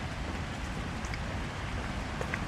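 Rain falls during a walk through Cardiff as a steady, dense hiss that stays constant and fairly loud throughout, with no talking.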